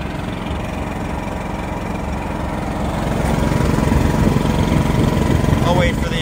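A 450cc generator engine with electric start runs steadily outdoors in cold December weather, a continuous loud chugging drone that grows slightly louder partway through.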